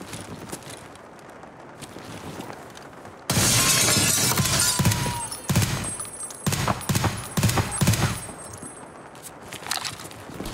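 Gunfire in Escape From Tarkov, a sudden loud burst of shots and shattering impacts that keeps going in uneven volleys after a quieter lead-in.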